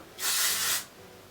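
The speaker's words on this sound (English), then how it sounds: "spray each section and scrunch your hair, and continue spraying until you reach your desired volume" A short hiss of volumizing hair spray misted onto hair, one continuous burst of a little over half a second, close and fairly loud, with no talking.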